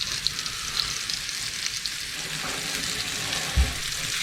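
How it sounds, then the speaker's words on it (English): Floured beef fries quietly in a pan in a boat's galley, a soft continuous sizzle with faint scraping of a wooden spoon and one low thump near the end. "I'm just going to stir that around with a wooden spoon"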